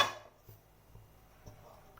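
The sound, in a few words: cooking pot being placed on the stove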